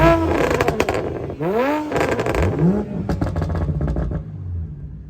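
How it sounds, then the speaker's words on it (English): A 700WHP turbocharged Toyota Supra revs hard in repeated sweeping bursts, its pitch climbing and falling through each blip, loud and close, with no talking. "Dude, let's rev bomb."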